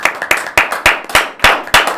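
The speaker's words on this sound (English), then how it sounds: "can we get a round of applause?" Sharp, loud hand claps close by from a small group on a student podcast, a quick uneven run of about a dozen strikes over two seconds with no talking.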